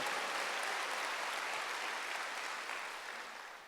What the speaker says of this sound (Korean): 깨달은 사람만 박수 쳐보세요